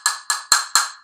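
A higher-pitched female castanet, La Maja, struck four times in a steady rhythm, each bright clack sharp and close, ringing briefly before the next.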